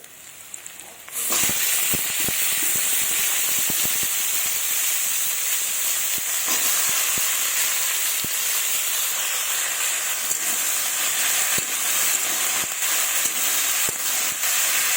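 Drumstick pods, papaya and potato drop into a pan of fried onions, setting off a loud, steady sizzle that bursts up suddenly after a quiet second and keeps hissing, with faint ticks and pops throughout.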